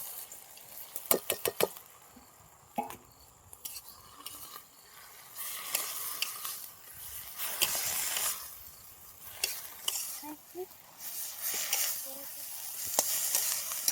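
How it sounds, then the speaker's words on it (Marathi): Spice masala is stirred into a cooking wild leafy vegetable bhaji (saratya), giving a soft sizzle with bursts of frying hiss and irregular spoon taps and scrapes, fairly quiet and close. "भाजी पण मस्त शिजत आली आता आपण हे मसाला टाकून घेऊ याच्यामध्ये"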